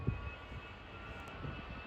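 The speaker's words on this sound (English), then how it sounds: "Yes, CFM56 engine." An Airbus A320 with CFM56 engines at Leipzig airport gives off a steady, distant engine roar before takeoff, low and even throughout with no talk.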